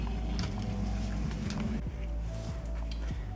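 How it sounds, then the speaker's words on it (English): A 500-watt electric water pump plugged in and running, a steady low mechanical hum with tonal drone and faint rumble, continuous and close throughout. "Next, connect the water pump inside one of the sockets."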